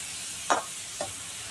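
Chopped onion and green chili, with curry leaves, sauté in a pan for a Tamil fish puttu dish, a faint steady sizzle broken by two quick stirring scrapes.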